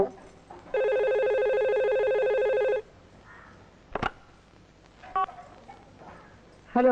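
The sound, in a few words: telephone ringing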